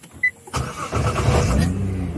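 Sports car engine, a Honda Civic Type-R or Nissan GTR R35, cranking and catching after a brief click, then settling into a steady close rumbling idle, no talking.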